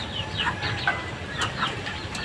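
Young backyard chicks at a feeder, with repeated high peeps and soft clucks scattered over the whole stretch, fairly close, over low background rumble.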